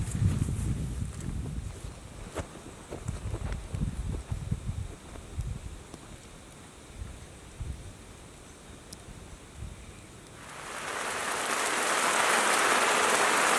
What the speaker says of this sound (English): Well, that rain came in, and looks like I'm cooking on the little stove underneath the awning.